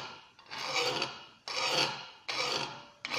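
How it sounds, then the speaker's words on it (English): A flat metal file rasps along a lawn mower blade in steady one-direction strokes, three long gritty passes close and loud with short pauses between, a fourth just starting at the end. "Blade sharpening could be done with flat metal file, by making one direction strokes."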